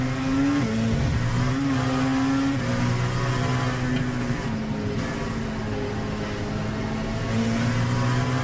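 Racing video game car engine at the Indianapolis road course, a steady loud drone with harmonic tones that dip and shift as the driver lifts off the throttle heading into turn 1, continuous throughout with no talk.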